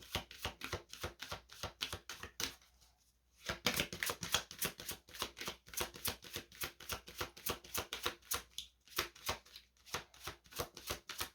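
A deck of cards being shuffled and cut, with rapid riffling bursts and crisp snapping flicks, brief pauses between runs, close and clear with no talk.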